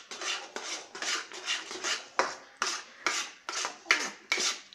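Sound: stirring thickening besan mixture in a pan

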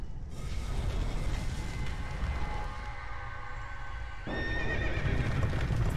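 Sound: stock horse neighing sound effect in Dark Souls 2 video game

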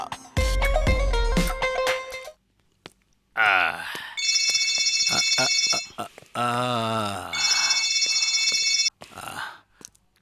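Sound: telephone ringing

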